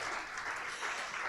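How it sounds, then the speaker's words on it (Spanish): Church congregation clapping during a Spanish-language Sunday sermon, a dense, steady burst of applause filling the room for a moment with no pauses. "Denle un aplauso."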